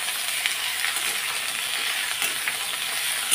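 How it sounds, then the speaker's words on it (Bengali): Potatoes with black cumin stirred in hot oil, a steady bright sizzle with faint scraping, continuous and close, no voices. "কালো জিরা ফোড়ন দিয়ে দিলাম আলুগুলো। এবার আমি নাড়াচাড়া দিয়ে দেবো।"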